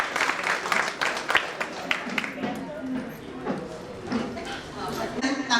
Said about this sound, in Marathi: सगळ्यांनी जोरदार टाळ्या वाजवा छोट्या छोट्या गोष्टीसाठी